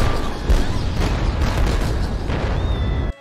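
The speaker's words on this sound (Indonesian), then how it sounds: "tiba-tiba gedung mall itu benar-benar meledak" A mall building explodes in a film scene, a loud sustained roar of blast and rumbling debris that cuts off abruptly at the end.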